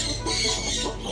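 A hen clucks briefly while being handled, a soft short burst of clucking close by with no talk over it.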